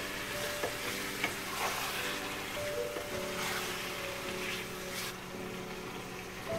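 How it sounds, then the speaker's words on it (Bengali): Deer meat stirred with spices in a pan, a steady sizzle and frying crackle with scraping stir sounds running throughout, fairly close and continuous, with no talking. "হরিণের মাংসটা এখন আমি মশলার সাথে মাংসটাকে মিক্স করে নেব"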